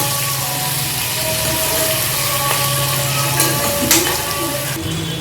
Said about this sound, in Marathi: बारीक चिरलेला टॅमॅटो घालून घेतलं त्याला हलसंच दोन मिनटं हलवून घेते